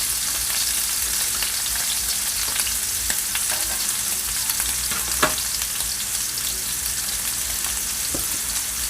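Scallops searing in a hot pan give a steady, loud sizzle with faint crackles and occasional sharper pops, and no one speaks.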